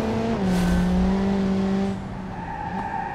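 A race car in BeamNG.drive on the Hirochi Raceway, its engine droning loud and close with sustained tonal whine and tire squeal, the pitch dropping as it sweeps past and fades slightly.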